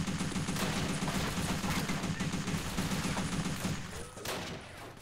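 Rifle gunfire in the video game Men of War 2, rapid overlapping shots forming a dense, loud fusillade that thins out near the end.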